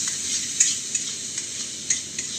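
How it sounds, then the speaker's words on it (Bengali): Steady hissing sizzle of salted spice paste frying in a pan for a parshe fish curry, with occasional stirring clinks and scrapes, close and continuous, no voices. "মশলাটাকে একটু ভালো করে ভাজবো"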